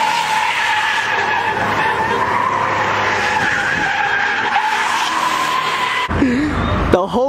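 A Lamborghini and a Rolls Royce do donuts on a shut-down freeway, with a long, loud, continuous tire squeal and engine roar up close, breaking into wavering revs and squeals near the end.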